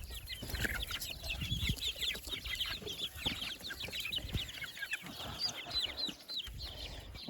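Broiler chicks and goslings in a homemade brooder keep up a constant chorus of high, rapid peeping and cheeping, with scratching and shuffling underneath, fairly faint and without talk.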